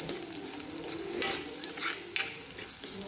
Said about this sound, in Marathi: आता हे कांदे झाले की मी त्याला थोडं तेलामध्ये तळणार आहे